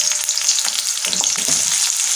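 Chopped onion sizzles and spits in hot white oil in a wok, a steady loud frying hiss with a few soft stirring knocks.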